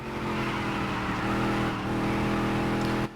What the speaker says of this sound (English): I know my 4th gear is still kind of sluggish, as you can hear when we shift into it